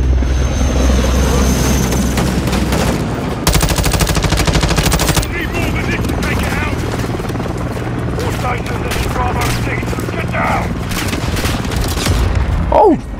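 Loud Call of Duty Modern Warfare 2 gunfire, with bursts of machine-gun fire, explosions and a helicopter droning nearby, continuing through the whole stretch.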